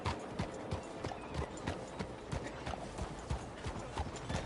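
Horse hooves clip-clop at a steady walking rhythm in Red Dead Redemption 2, close and moderately loud over a soft outdoor ambience.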